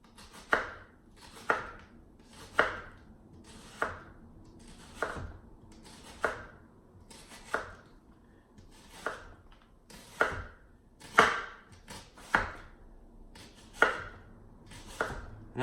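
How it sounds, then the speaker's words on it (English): A knife slices red onions thinly on a cutting board in steady, evenly spaced cuts, each a crisp close tap against the board, about a dozen strokes with no talking. "just slice them as thin as you can, crossways like this"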